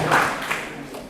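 Brief, thin applause from an audience in a school gathering hall, a short scattered patter of clapping that fades quickly, with no one speaking over it.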